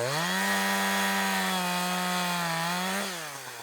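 A loud, steady chainsaw engine drones continuously while cutting up wood, its pitch dropping briefly near the end as it bogs into a cut.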